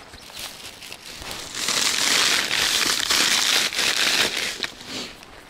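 A plastic garbage bag crinkles and rustles loudly up close, a continuous crackling that swells in the middle before easing off.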